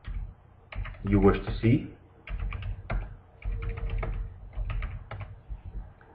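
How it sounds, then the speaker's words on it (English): Stock symbols being typed on a computer keyboard, a soft run of quick key clicks in short bursts mixed with a person talking. "Type in the stocks"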